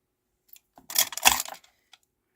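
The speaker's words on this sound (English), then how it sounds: "Just gonna give this a little trim." Paper leaves being trimmed for a handmade card, a few soft crisp cuts close by in a brief cluster, with faint clicks before and after.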